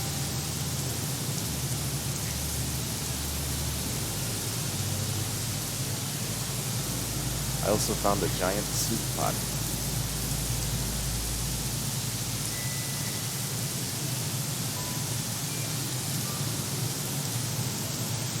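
Loud, steady rain falling in the video game Craftopia, a dense hiss that never lets up, with a voice speaking briefly over it partway through.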